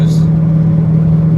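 A howling rear wheel bearing on a 2007 Subaru Impreza, heard from inside while driving: a loud, steady drone with road rumble beneath it, continuous and unbroken.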